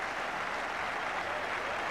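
Cricket crowd at a Kanpur match against England applauding after Virender Sehwag's dismissal, a distant, steady wash of clapping from a large stadium audience.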